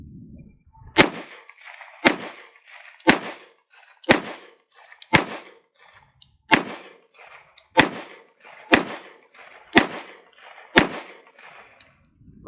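A pistol fires 230 grain round nose .45 ACP reloads over 6.4 grains of CFE Pistol powder, ten sharp, loud shots at an even pace about one second apart, each trailing a short echo, with no talking.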